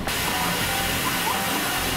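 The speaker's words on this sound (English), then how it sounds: "Oh man, the steam action is no joke!" Steam hissing from dumpling steamers at a market stall in Mangwon Market, Seoul: a loud, continuous broadband hiss that begins abruptly and holds steady, close up, with faint background bustle and no speech.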